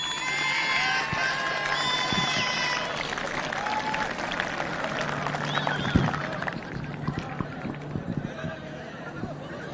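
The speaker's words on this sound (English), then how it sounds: "give them a big round of applause" A crowd at a men's hockey match, Wellington vs Auckland, claps and cheers loudly for team MVPs at first, the sound thinning into scattered clapping and chatter as it goes on.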